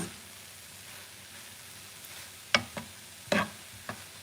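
Haitian macaroni frying in a pan, with a soft steady sizzle underneath and a few sharp scraping and clattering strokes as it is turned, spaced irregularly in the second half.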